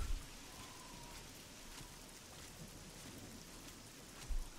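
Steady rain hisses in the video game Oblivion on the road toward the Imperial City, a constant soft wash with no voices over it.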